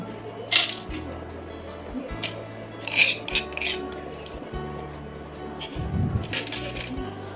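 Coarsely crushed nuts clink and rattle as they are tipped from a container onto a plate in several small pours, with light taps and scrapes against the dish between them.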